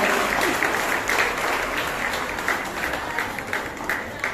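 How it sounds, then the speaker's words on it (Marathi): An audience at a women's honour award ceremony breaks into steady, sustained applause. Dense clapping fills the room evenly from start to finish with no pauses. "जोरदार टाळ्या होऊन जाऊ"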